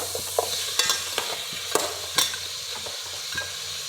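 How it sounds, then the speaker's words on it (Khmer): Pork trotters stirred in a soup pot, a spoon scraping and clicking against the pot in quick irregular strokes over a soft sizzle, close up and with no voices. "យើងកូរវាបន្តិច"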